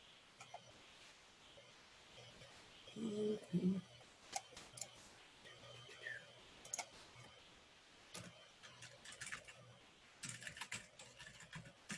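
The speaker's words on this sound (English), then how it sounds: "I'm typing the question there." Quiet, uneven keyboard typing with bursts of key taps and pauses, plus a brief muffled voice-like sound partway through.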